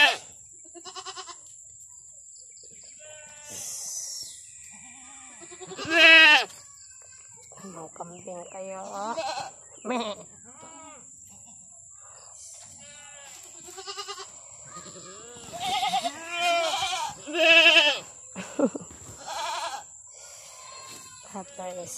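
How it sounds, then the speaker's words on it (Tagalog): Goats bleat on a farm, several wavering cries rising at intervals over about twenty seconds, loud and close, with voices talking in between. "Ito ang mga kambing."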